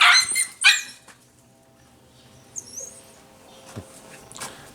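Two sharp, loud puppy barks close by open the scene, then fainter yips, squeaks and a few more brief barks scatter across the rest.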